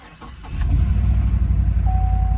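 An older Ford F-150 pickup truck engine cranks and fires, then settles into a loud, rumbling, slightly shaky idle close by.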